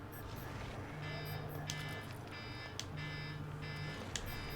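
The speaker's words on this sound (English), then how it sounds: "Oh, that's my alarm." An alarm clock goes off during a Wasteland 3 game session, sounding as repeating electronic beep bursts with steady tones, at moderate level over game audio in the background.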